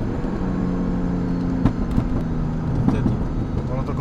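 A turbocharged BMW E46 engine hums steadily at night, its throttle eased off and then opened again, with a few short pops and whooshes breaking through the continuous drone.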